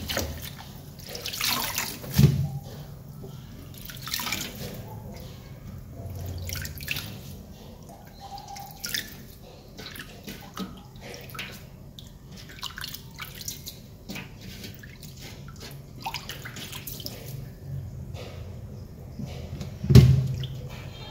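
Peperomia greens are rinsed under a running kitchen tap: a soft, continuous trickle with occasional splashes and drips, quiet and close, with two sharper splashes near the start and end.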